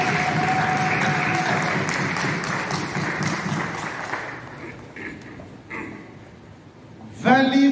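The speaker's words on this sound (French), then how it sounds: "Est-ce qu'on peut acclamer encore le Seigneur?" An audience applauds to acclaim the Lord at a Christian gathering, with steady clapping and a voice over it that fades after a few seconds. A short burst of clapping comes back near the end.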